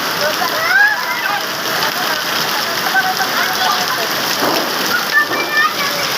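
Heavy rain pours steadily onto surfaces nearby, a dense hiss with scattered patter, while people talk and call out faintly over it.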